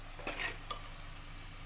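Stirring a spice tempering in a pan for Punjabi-style lobia curry, with a couple of scraping strokes over a faint, steady sizzle, close and quiet.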